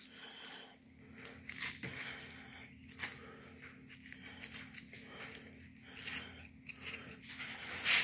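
A knife slicing through a trophy-sized catfish being filleted along the jawbone line, with faint, soft intermittent cutting and tearing sounds, close and quiet throughout.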